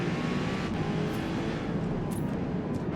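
A race car at Spa in Forza Motorsport drones with a steady, loud engine note, the engine held at high revs through the whole short stretch with no voices.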